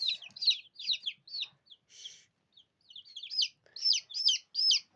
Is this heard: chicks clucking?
yes